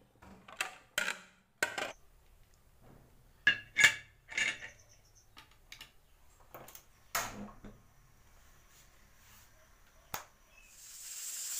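Irregular splashes and sloshes of water while washing in a bowl, with light clinks of dishes between quiet gaps, close by, in a kitchen cooking chicken stew.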